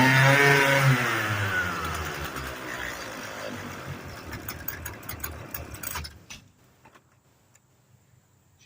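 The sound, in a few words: Husqvarna string trimmer engine running on old kerosene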